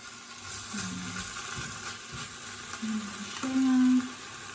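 Beef steak cooking in a home kitchen, with a soft, steady sizzle and light stirring noises, a few brief tonal clinks, and a louder burst near the end.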